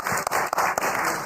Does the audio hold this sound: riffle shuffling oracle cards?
no